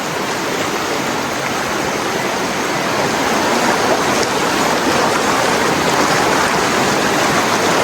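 A swift, swollen river flowing hard after rainfall: a loud, unbroken roar of rushing water nearby, steady throughout and building slightly toward the end.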